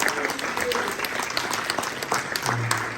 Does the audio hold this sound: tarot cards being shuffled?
no